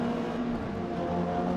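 A Mazda MX-5's engine drones on steadily in Forza Motorsport at the Hakone circuit. The even, buzzy tone climbs slowly as the tall gearing pulls it up through the revs, with no talk over it.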